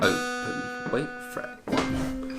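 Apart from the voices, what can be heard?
No distinct noise like a dog, phone or traffic.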